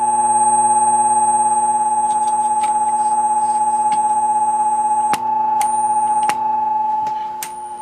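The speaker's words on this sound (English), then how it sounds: "Get a nice high-pitched squeal there." A Wilcox Gay Recordio radio tuned to AM gives a loud, steady high-pitched squeal with layered tones, broken by a few brief clicks and crackles near the end.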